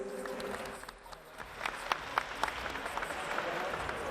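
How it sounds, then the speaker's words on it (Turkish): Crowd applause at a women's boxing match honouring a 19-year-old fighter, a noisy spread of clapping with cheers swelling after a brief dip, mixed with hall chatter and shouting. "Onun için de büyük bir alkış alabilir miyiz?"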